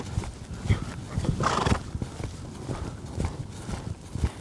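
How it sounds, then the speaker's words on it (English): A horse lopes along, its hoofbeats falling in a steady rhythmic clip-clop, close and moderately loud, with a brief snort or whinny-like sound partway through and no talk. "Pick that lope up, pick the speed up."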